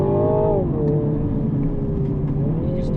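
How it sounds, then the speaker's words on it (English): A four-cylinder two-litre MINI JCW engine drones steadily with a slight rise and dip in pitch as it runs through turns, loud and close. "You can start to hear now that engine."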